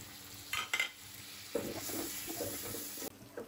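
Tomato drops into a hot pan and fries, with a burst of sizzling and stirring scrapes after a few short clinks, the hiss rising and crackling close by before a brief pause.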